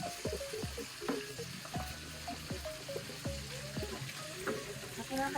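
Tilapia sizzles steadily as it fries in a pan in a home kitchen, with irregular clinks and scrapes of utensils throughout and faint voices in the background.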